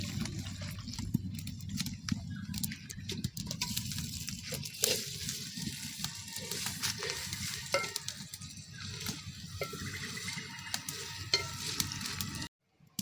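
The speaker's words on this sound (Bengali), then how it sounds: "এখন এর মধ্যে দিয়ে দেবো মাংস।" Mutton frying with spices, onion and whole garlic in a clay pot, a close, steady sizzle with frequent stirring scrapes and clinks throughout, no talk.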